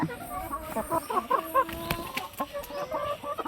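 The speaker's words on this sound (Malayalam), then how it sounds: "ബാക്കി എല്ലാ കോഴികളും" Several hens cluck and squawk in a busy, overlapping chorus, with short rhythmic bursts from different birds close by.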